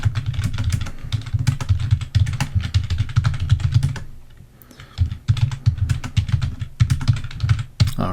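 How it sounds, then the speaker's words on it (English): Rapid keystrokes clatter on a computer keyboard, close and crisp, in quick bursts with a brief pause midway before typing resumes. "So we can start by typing"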